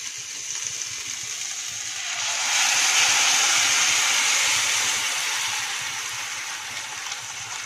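Water poured into a hot pot while cooking cumin (jeera) rice, producing a broad steamy hiss that swells in the middle and then slowly fades, with no talking.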